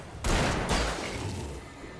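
A shotgun fires once in the video game Alan Wake: a sharp, loud blast followed by a short rumbling decay, with no talking.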